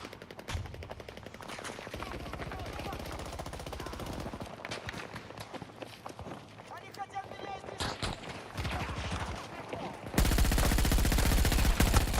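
Gunfire in a Battlefield 6 multiplayer match: rapid automatic bursts and scattered shots rattle through most of the stretch, mixed with battlefield noise, ending in a louder dense roar.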